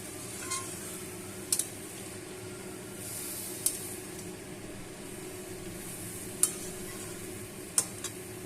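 Cabbage frying with spices in a pan for a vegetarian Bengali bandhakopi, a low steady sizzle with occasional sharp clicks and scrapes of a spatula stirring, close and fairly quiet.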